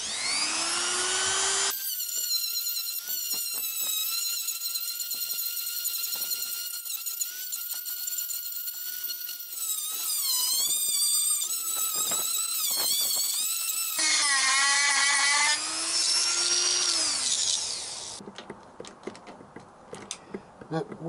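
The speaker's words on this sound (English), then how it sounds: "what I've actually done is tried to grind the little spot weld off" Grinding a spot weld off a Yamaha XJ900S motorcycle, a high, whining power-tool grind that runs in long sustained bursts with pitch dips as it bites, close and loud, with brief pauses between passes.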